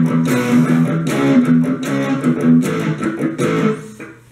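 An electric guitar plays a verse riff, with choppy, palm-muted chord stabs in a steady rhythmic pattern, clear and close with no talking.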